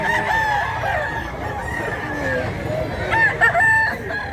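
A rooster crows loudly and nearby, with chickens clucking around it and a second burst of calls near the end. Faint voices can be heard in the background.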